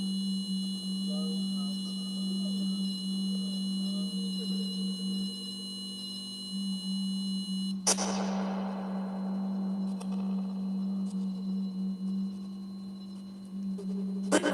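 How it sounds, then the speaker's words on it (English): A spirit box device gives off a steady low hum, constant and prominent throughout, with faint radio sweeps and chirps above it and a sudden burst of static midway. "Does anybody else hear a low hum?"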